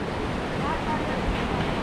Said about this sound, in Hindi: सुबह सुबह का वक्त है और जो लहरें हैं समुंदर की, बहुत बेहतरीन